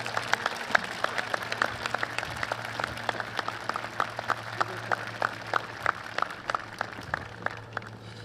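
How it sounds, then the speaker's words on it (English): Audience applause at a high school graduation ceremony, steady clapping from a large crowd with individual sharp claps standing out over a continuous low hum, sustained evenly for the whole stretch. "Please join me in a round of applause for Ishmael Hazelwood."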